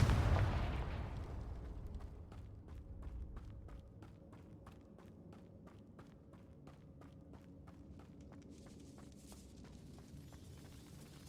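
A Confringo blast spell explodes in the video game Hogwarts Legacy with a loud booming burst that decays quickly, followed by a steady run of faint, regular ticking steps.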